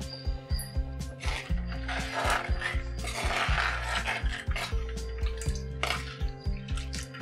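A spoon stirs black rice payasam with coconut milk in a metal pot, giving repeated clanking and scraping knocks in an irregular rhythm, close and fairly loud, with a sharp knock at the end.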